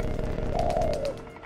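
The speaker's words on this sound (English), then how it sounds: "I just need one more pigeon" Pigeon cooing from the video game Jazzpunk, a single soft warbling coo lasting under a second over a steady low background hum.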